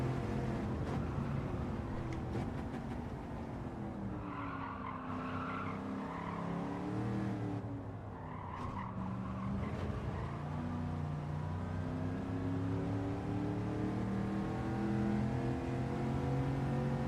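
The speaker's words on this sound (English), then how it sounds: "You see how it lets the engine rev up, then bog down, and we lose the time?" Gran Turismo 7 car audio during a time trial: the engine revs up and bogs down amid wheel spin, a continuous harmonic engine drone rising and falling in pitch with tire noise, heard alone without talk.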